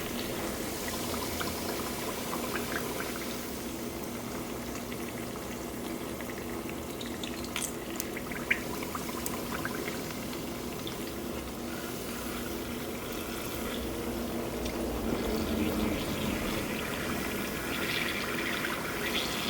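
Shallow oil frying steadily in a tilted pan, a continuous dense sizzle and crackle with scattered pops, fairly close and even throughout, growing slightly busier near the end.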